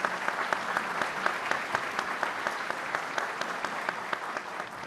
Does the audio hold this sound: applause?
yes